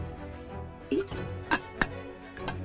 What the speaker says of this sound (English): That's my water bottle noise, if you were wondering